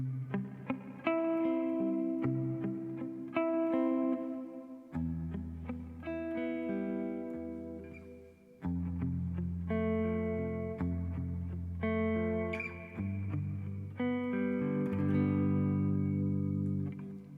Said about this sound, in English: Just a massive, beautiful sounding reverb.